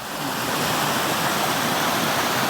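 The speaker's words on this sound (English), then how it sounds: "A beautiful waterfall here in Connecticut." A Connecticut waterfall roars in a steady, dense wash of rushing water, loud and close without a break.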